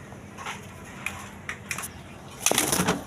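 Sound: colored Rajgolla pigeons cooing

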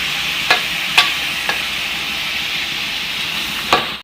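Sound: pork stir-frying in a pan with garlic

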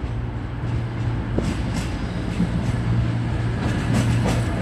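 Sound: tram passing at Sheffield

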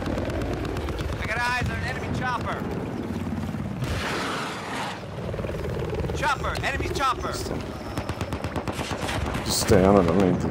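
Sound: enemy helicopter amid gunfire in a video game

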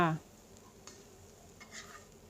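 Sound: dry-roasting insects with ground pepper in pan

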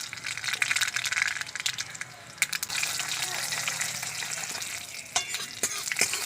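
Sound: dried red chillies and black mustard seeds frying in oil

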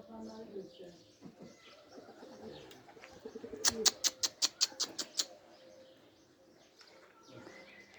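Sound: pigeons cooing as a flock flies

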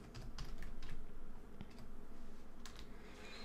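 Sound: typing on a computer keyboard

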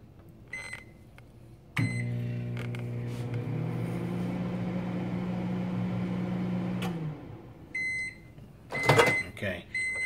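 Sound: microwave oven running

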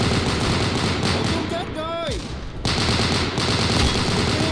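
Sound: M1919A6 machine gun hip fire in video game Unit 1968

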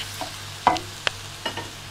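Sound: onions frying and being stirred in a pan

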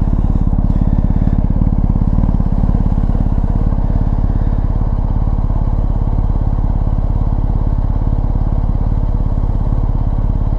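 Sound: BMW R1250GS motorcycle boxer engine exhaust

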